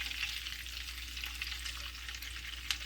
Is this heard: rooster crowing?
no